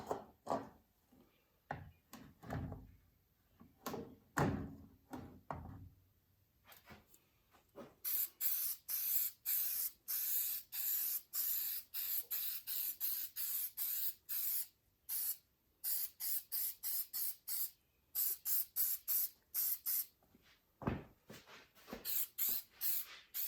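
Rapid bursts of aerosol spray paint lay a light coat on a 1968 Mustang car part propped on caps above a table, short hisses repeating close and loud after a few quieter handling knocks.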